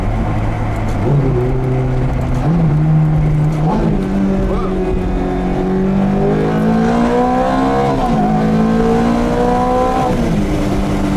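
A BMW M3 engine is heard up close. It revs repeatedly and blips on downshifts, the pitch rising and dropping in steady steps, with faint background noise from the road.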